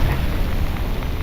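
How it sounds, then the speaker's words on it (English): Lightning strikes a spaceship in the space game X4 Foundations, a dense, continuous rumbling crackle with a heavy low roar that stays loud and steady throughout, with no talk over it. "Lightning hit us, knocked us out of our super drive."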